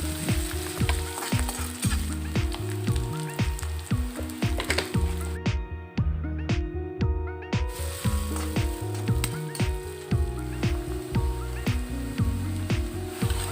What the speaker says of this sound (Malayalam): ഇനി നമുക്ക് സവാള ഒന്ന് വഴറ്റിയെടുക്കാം.